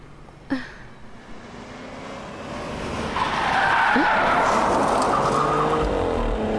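An animated-series sound effect of a car skidding toward people: a short screech and a low rumble give way to a loud, sustained tire squeal that rises and holds to the end.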